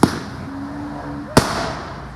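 Two sharp firework bangs at a celebration and light party, one at the start and another about a second later, each fading into a short rumbling decay.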